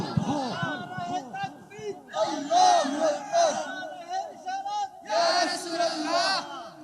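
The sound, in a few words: religious gathering crowd shouting takbir in response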